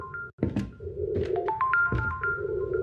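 A bell rings inside the horror video game Supernatural, its clear, sustained tones chiming repeatedly over a low, dull, muffled rumble, moderately loud and close, with no voices.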